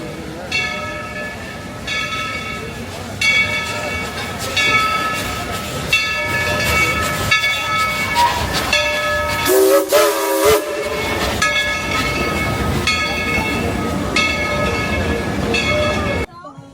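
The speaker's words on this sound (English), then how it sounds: "Train passed right by us" A Dollywood steam train passes close by, loud, with a chuffing, clanking rhythm of rolling cars, a burst of hissing steam and a whistle partway through, and crowd voices mixed in.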